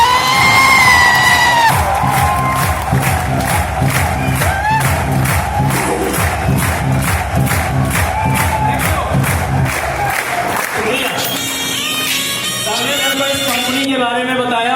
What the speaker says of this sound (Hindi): खड़े होकर एक जोरदार ताली बनती है महागुरु जी जसवीर